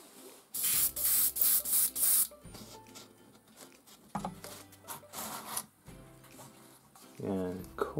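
An airbrush spraying hand-mixed, thinned paint onto sci-fi junk-pile terrain in loud hissing bursts of one to two seconds, alternating with quieter gaps of handling noise, with someone talking at times.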